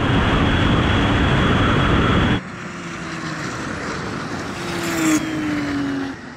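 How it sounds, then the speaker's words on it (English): A Porsche 911 Turbo of the 993 generation accelerates hard in a drag race, a loud, broad engine roar that cuts off abruptly and gives way to a lower, quieter drone with a rising whine. "This turbo just keeps on boosting all the way. It doesn't drop off at all."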